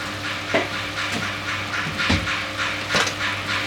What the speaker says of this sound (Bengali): এখন নাড়িয়ে দিব এটা